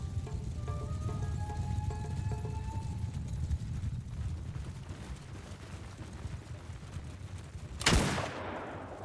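A single sharp gunshot in Mount & Blade II: Bannerlord cracks out near the end, following a stretch of low rumbling battlefield ambience with faint tonal hums, then decays quickly.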